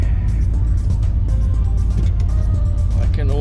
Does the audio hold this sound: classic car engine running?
yes